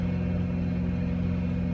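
Another truck idles in the queue at a truck stop, a steady low engine hum with no change in pitch, fairly close and without talk.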